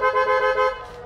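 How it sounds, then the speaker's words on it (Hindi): Waterproof aftermarket car horn fitted to a modified Tata Punch, one steady bright toot lasting about a second, close and clear with no talk. "हमने जो हॉर्न इंस्टॉल किए हैं वो वाटरप्रूफ वाले अभी लेटेस्ट आए वही इंस्टॉल किए हैं।"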